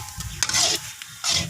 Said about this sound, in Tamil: நல்லா கிண்டுங்க சித்துப்பா.